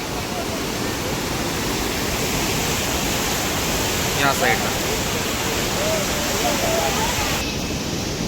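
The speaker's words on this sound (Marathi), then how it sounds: "इथून बरोबर गंगा नदी वाहते" A steady, loud roar of a river rushing below near Gaurikund, Kedarnath route, fills the scene, constant and broadband, with a brief spoken word and faint voices in the background.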